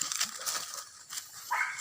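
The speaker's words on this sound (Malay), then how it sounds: "Ih, suara anjing deh." A dog barks and yips a few times at a distance, the calls thin and somewhat muffled against a hissy background.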